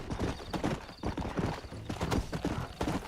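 Horse hooves clip-clopping in Red Dead Redemption, a rapid continuous gallop rhythm close up with game ambience, steady and moderately loud throughout.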